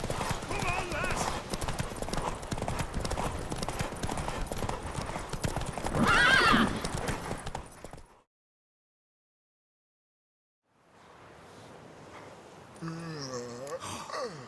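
Rapid hoofbeats of a galloping horse in The Witcher 3: Wild Hunt pound steadily under a voice, then cut to silence before faint sounds and a whinny-like cry return.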